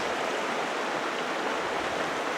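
Ridyard Creek rushing beneath a trail bridge on a hike in Banff National Park: a loud, steady, close-up wash of flowing water with no voices.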